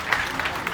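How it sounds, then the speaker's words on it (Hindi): Audience applause for a guest being welcomed on stage at a Bhojpuri film promotion event, a short steady burst of clapping from a crowd with a voice over it. "जोरदार ताली बजा दो भाई।"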